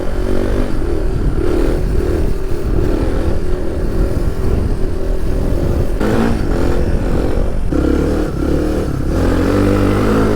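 Suzuki DR 350 single-cylinder enduro motorcycle engine revving and accelerating loudly and close up, with a continuous throaty roar that swells with each burst of throttle, no talking.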